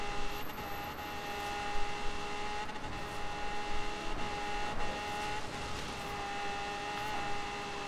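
A Mustang GT 350 drives and turns in Forza Horizon 3, its engine holding a steady, fairly loud drone with a few brief surges while cornering, heard alone without talk.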